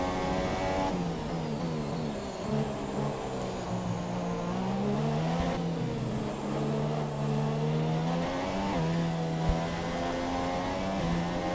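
F1 2017 race car engine in a video game, running on a rich fuel mix, droning steadily and loud for the whole stretch with rising and falling revs as the car drives on, no voices over it.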